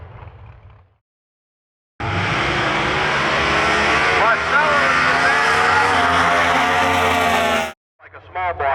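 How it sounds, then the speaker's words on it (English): A Mustang drag-racing engine roars at full throttle at Milan Dragway, its pitch climbing and dropping through gear changes for several seconds, then cutting off abruptly. "That's what this Mustang sounds like when he lets it go and starts rolling gears."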